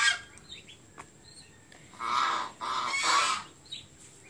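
Domestic geese raised in a Vietnamese village give loud honking calls in several bursts, with quieter stretches and faint calls between them.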